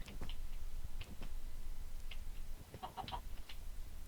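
Chickens in Minecraft give a few short clucks scattered over a steady windy background, with soft ticking blips in between and no talking.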